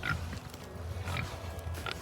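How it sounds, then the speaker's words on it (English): Pigs grunt at morning feeding on a farm, a steady run of low, close grunts with a few sharper snorts and no talking. "Love the pigs."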